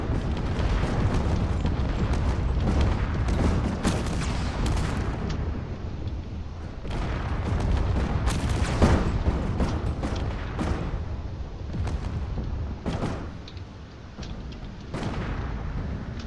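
Spaceship collision in a video game battle, with debris blasting forward and the hull torn in half, rendered as a dense rumble of booms and crashing explosive bursts that continues loud for over fifteen seconds with no talk.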